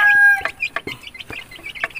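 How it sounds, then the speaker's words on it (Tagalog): Backyard game fowl chickens cluck in short, close, choppy calls, several quick bursts overlapping over two seconds. "Dito tayo sa mga manok ko."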